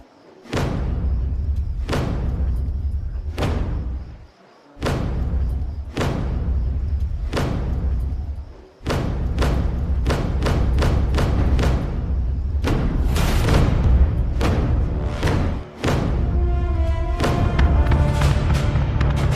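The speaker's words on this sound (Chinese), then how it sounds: "我们战鼓响了啊" Heavy drum beats boom out one at a time, then speed into a rapid pounding roll; loud, deep strikes with brief pauses between some hits.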